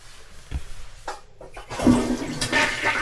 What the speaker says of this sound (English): so I just like to flush the toilets and make sure that it's all fresh water in there